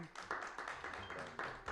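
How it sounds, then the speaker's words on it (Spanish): Applause from a live audience greeting actor Oscar Martínez at a film-talk event, heard as a faint, steady patter of clapping with rhythmic swells and some talk mixed in. "les pido un fuerte aplauso para él"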